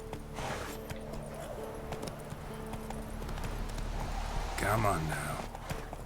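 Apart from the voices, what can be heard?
horse Roach's hooves clip-clopping, from video game The Witcher 3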